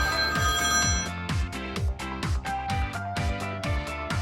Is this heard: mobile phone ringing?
yes